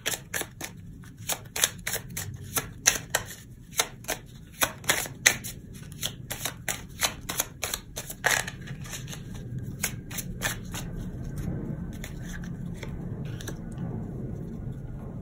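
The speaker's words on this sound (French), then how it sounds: "Je vais me tirer une autre carte parce que ça m'intrigue" Tarot cards are shuffled by hand in a quiet room: rapid crisp riffling and snapping flicks in quick bursts, then softer sliding and rustling as a card is drawn, with no talk.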